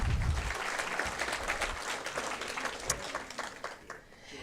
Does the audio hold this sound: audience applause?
yes